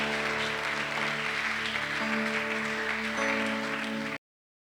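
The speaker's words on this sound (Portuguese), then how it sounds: "Pode aplaudir Jesus." A church congregation applauds during a Sunday service, with thick, continuous clapping over sustained keyboard chords, then cuts off abruptly.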